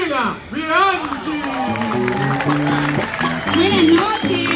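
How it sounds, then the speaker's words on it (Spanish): Audience applause and cheering rise to welcome a guest onto a comedy stage, with a performer talking and singing loudly over the crowd noise throughout. "¡Fuerte el aplauso para recibir a Graciela Bianchi!"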